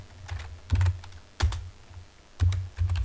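Keys clatter on a computer keyboard during a Python coding lesson, coming in short uneven bursts of clicks with brief pauses between them, close and moderately loud with no talking.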